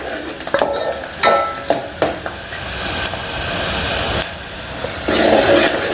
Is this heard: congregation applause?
no